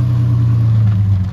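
A Chrysler Valiant VH Ranger pulls away with a steady low engine rumble that holds even and close, then eases slightly at the very end, with no voices.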